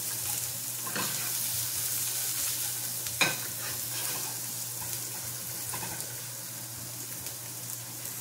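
Onion sautéing in a little oil in a pan, a steady close sizzle with faint stirring scrapes and a sharper clink near the middle, no talking over it.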